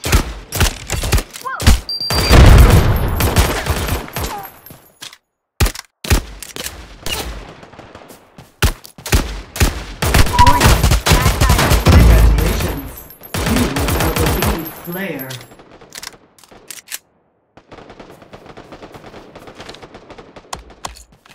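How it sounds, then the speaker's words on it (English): Gunfire in a Free Fire style mobile shooter game comes in loud bursts of rapid shots and single cracks, separated by brief pauses, with quieter stretches toward the end. "Warning, bad guy with a gun right there."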